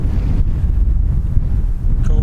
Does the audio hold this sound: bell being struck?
no